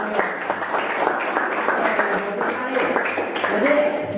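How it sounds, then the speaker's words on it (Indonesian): Classroom applause for presenters, a steady patter of many hands clapping at moderate loudness, with voices talking over it the whole time. "kita beri aplaus buat semua"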